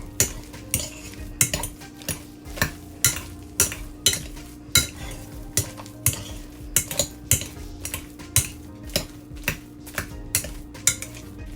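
Utensil clinking and scraping against a bowl while potato cheese pancake batter gets worked together, a steady rhythm of close, crisp taps and stirs, with no talking.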